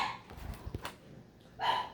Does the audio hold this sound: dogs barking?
yes